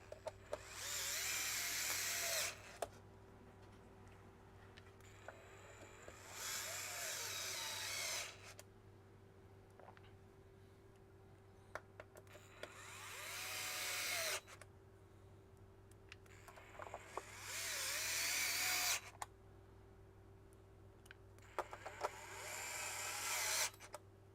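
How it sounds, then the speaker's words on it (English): An electric screwdriver drives Torx 10 screws into an Xbox One S console during repair, whirring in repeated bursts of a few seconds each with quiet pauses between, fairly close and with no talking. "get our Torx 10, and we're going to get all the rest of these screws put in."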